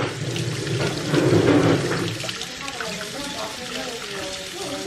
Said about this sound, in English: this is like directly the hot water from the tap